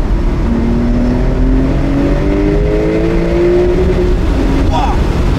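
Porsche 992 Turbo S with PDK gearbox accelerating hard, engine tone climbing in rising sweeps that break at quick gear changes, loud and steady throughout with a voice talking over it.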